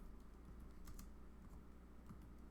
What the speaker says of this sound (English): Just start typing it.